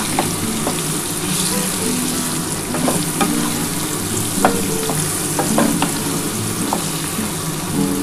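Chilli paste and spices frying in a pan for a vegetarian bottle-gourd-greens chachchori, a loud, steady sizzle with scattered clinks and scrapes from stirring, close up and with no talk.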